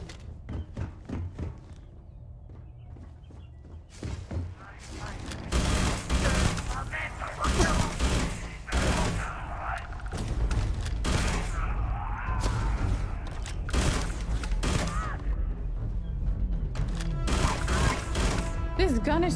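Gunfire in the video game Starfield, irregular bursts of sharp shots and volleys over a busy game soundscape, with someone talking over parts of it.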